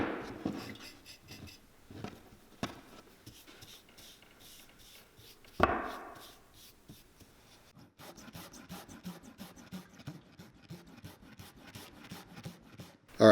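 A rubber boot sole from a women's Frye boot is roughed up after an acetone cleaning, producing repeated close scratchy rasping strokes in irregular bursts, with a sharper scraping hit partway through.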